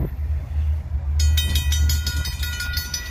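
A train rolls past on a railfanning outing, a steady low rumble joined after a second by rhythmic clattering wheel clicks and bright metallic squeal, loud and close throughout.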